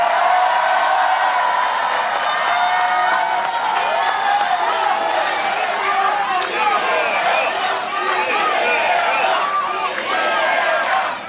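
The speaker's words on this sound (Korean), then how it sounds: "박수 좀 크게 쳐주세요." A large crowd at a political speech by Lee Jae-myung in Pohang, South Korea, applauds loudly and steadily, with cheering voices mixed into the dense clapping for the whole stretch.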